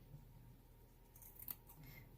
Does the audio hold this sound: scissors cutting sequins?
yes